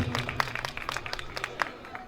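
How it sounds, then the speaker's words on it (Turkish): An audience at a hamsi (anchovy) festival held by a Trabzon community association in Bayrampaşa claps in scattered, fairly faint applause that carries on steadily throughout. "Bayrampaşa Trabzonlular Dernek Başkanım Sayın Mustafa Sarı abime bir alkışlar"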